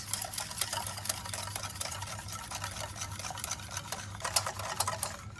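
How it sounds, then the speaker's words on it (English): Cocoa powder and coffee mixture being stirred off the heat for a chocolate cake, a close, continuous rhythmic scraping and swishing of a utensil in a bowl. "we're going to mix all of these off the heat"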